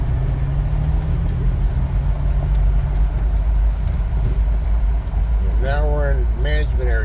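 A Jeep Wrangler's engine drones steadily on a forest road, loud and close, and near the end a voice speaks over the running engine.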